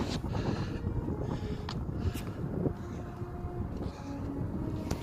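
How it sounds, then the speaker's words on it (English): Strong gust of wind buffeting an outdoor microphone, a steady loud low rumble lasting throughout with slight surges, no talking. "Again, another gust of wind just pushing me up."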